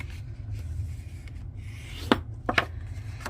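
Scored cardstock being folded by hand into a trifold card: soft rubbing and creasing with a few sharp crackles near the end, close and quiet.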